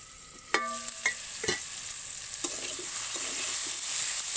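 Potatoes and pointed gourd being stirred in a pan with a few sharp scraping clinks, then a soft sizzle of frying building underneath and continuing.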